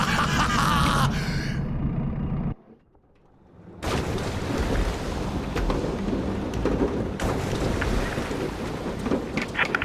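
Thunderstorm at sea in the video game A Fisherman's Tale, loud roaring wind and rain around a trawler that cuts to near silence for a moment, then surges back as a dense, rumbling storm.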